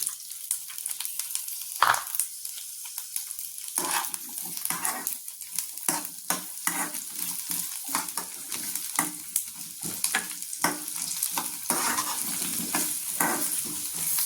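Chopped onions frying in a pan, a steady close sizzle with repeated stirring scrapes and clicks throughout, no voices.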